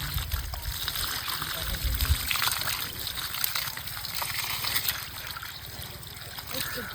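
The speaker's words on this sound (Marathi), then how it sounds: "आपल्याला कोथमीर धुवून घ्यायची कोथमीर धुताना का नाही अगोदर आपल्याला बुडक्याकडून धुवायची" Water runs and splashes as fresh coriander leaves are rinsed from the root end to wash off soil, a steady close trickle with a voice talking over it.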